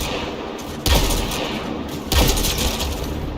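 Sniper rifle fire in the video game Mass Effect Andromeda: two heavy, booming shots about a second apart, each followed by a rumbling tail over constant loud background noise.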